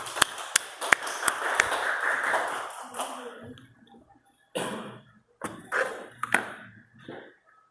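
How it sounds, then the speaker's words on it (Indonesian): An audience claps steadily for about three seconds, loud and close, followed by short spoken phrases and a few scattered claps. "Tepuk tangan dulu ya, Pak."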